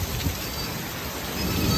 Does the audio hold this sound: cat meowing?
no